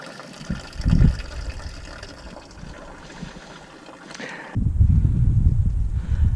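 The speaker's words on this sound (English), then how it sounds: "You can see coolant's already coming out. We're just going to drain it that way." Engine coolant drains out of a Toyota Tundra/Sequoia into a catch basin, making a steady liquid trickle and splatter with occasional louder gushes, close by and with no talk.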